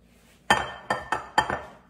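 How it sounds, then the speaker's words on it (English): An egg tapped against a bowl while making French toast, four quick hard knocks in a row, close and clear, with no talk. "let's crack our egg"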